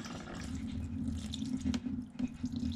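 Fluid pours steadily from the oil pan of a turbocharged BMW M52 engine in an E30, thin and watery from fuel contamination, a continuous close splashing trickle into a container with no talking.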